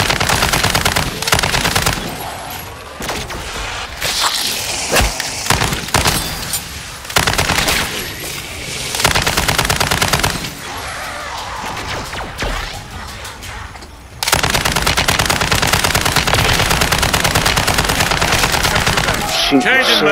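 Automatic gunfire rattles in a Call of Duty Modern Warfare 3 zombies match, with loud close bursts of machine-gun fire broken by short pauses and a long sustained stretch near the end.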